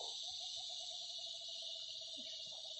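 A wild bird hoots repeatedly in a forest, a steady string of soft calls held at one pitch, set against a loud, constant hiss of insects with a few faint rustles beneath.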